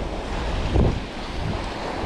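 Wind blowing hard at the seaside, a loud steady roar buffeting the microphone with a brief stronger gust in the middle, surf-like rushing underneath and no voices.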